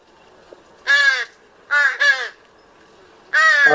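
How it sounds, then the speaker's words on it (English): Juvenile ravens or crows give four harsh, shrieking, kazoo-like calls close by, in quick bursts separated by brief silences. "One of the raven juveniles sound very shrieky."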